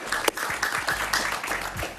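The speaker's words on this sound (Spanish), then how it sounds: "Un aplauso para mi querido Ángel Leal," Studio audience applause on a Spanish-language television talk show, a broad steady wash of clapping with a low rumble beneath, lasting the full stretch at moderate loudness.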